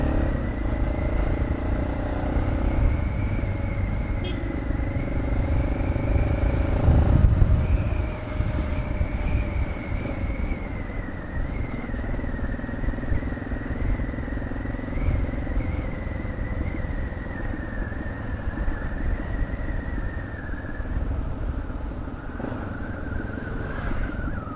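A Yamaha Ténéré motorcycle rides through city traffic with its fuel on reserve, the steady engine drone carrying on for the whole stretch, rising and falling a little with the throttle, with passing cars and wind noise around it.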